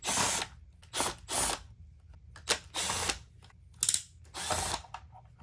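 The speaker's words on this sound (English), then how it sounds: "I'm just going to pull out all these perimeter screws." Screws are backed out of the bottom plate of a Bissell Pet Hair Eraser Turbo Rewind vacuum with a driver, giving several close bursts of ratcheting, whirring clicks separated by short pauses, with no talking.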